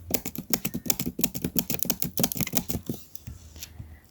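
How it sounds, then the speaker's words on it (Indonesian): Keys on a computer keyboard are struck in quick, close succession for about three seconds as numbers are entered, then the tapping stops and only faint room noise remains. "Kita ketik 1 sampai 9."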